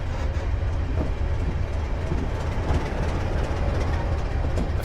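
A train in the Train Simulator 2016 game, on the Glasgow Airport Rail Link route, rolls along with a continuous dense low rumble and rail noise, steady and close with no voices.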